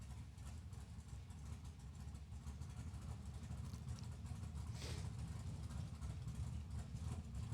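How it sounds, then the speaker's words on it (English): Low, steady engine rumble of cars idling and passing at a distance, a quiet continuous drone with no talking. "I just like listening to the cars rumble."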